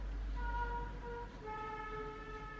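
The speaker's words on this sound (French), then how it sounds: "c'est un camion qui klaxonne" A truck honks its horn in two sustained, steady blasts. The second blast is slightly longer, and both sound some distance away over a low, constant rumble.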